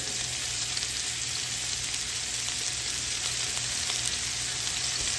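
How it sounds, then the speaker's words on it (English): Bacon-wrapped sweet peppers stuffed with cream cheese and scallions browning in a frying pan, giving a steady, dense, close sizzle that holds level throughout with no voices. "now we put in the fry pan for browning the bacon"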